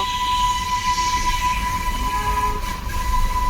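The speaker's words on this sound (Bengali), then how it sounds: "এটার আওয়াজটাই খুব মিষ্টি না, টয় ট্রেনের" The Darjeeling toy train runs past with a loud, steady rumble of wagons on the rails, a sustained high whistle tone held almost throughout, and no talk.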